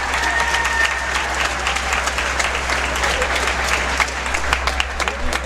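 Audience applause for the podium finishers of a pairs final at a jigsaw puzzle championship, a steady moderate clapping over a low continuous hum throughout.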